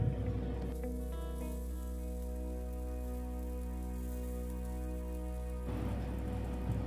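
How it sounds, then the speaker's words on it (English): Broccoli florets roast on a grill rack set over a gas stove flame, a soft crackling patter like light rain over a steady low burner hum, faint and continuous. "I'm going to roast them by placing a grill rack on gas stove fire"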